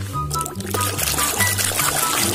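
Water pours steadily and loudly while a muddy toy is washed, a continuous splashing stream close by, with a faint voice sounding underneath.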